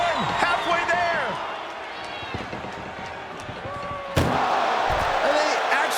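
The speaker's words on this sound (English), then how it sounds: "desperately trying to close the first of two doors" Wrestlers slam and shove against ambulance doors during a WWE SmackDown ambulance match between Solo Sikoa and Jacob Fatu, with heavy thuds and a sharp loud bang over a constant roaring arena crowd and commentary chatter.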